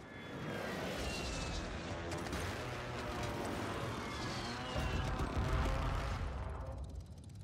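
A friendly airstrike in a shooter video game: a continuous loud rumbling roar of jets and explosions, swelling heavier midway before fading at the end, with no speech.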